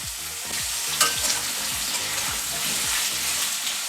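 Pumpkin pieces fry with salt in a pan, a loud, steady sizzle with a few brief stirring knocks and clatters near the start, close up and without voices.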